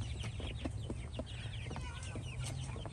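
Chickens cluck and chatter near their coop, with repeated soft clucks from several birds over a low steady hum, no talking.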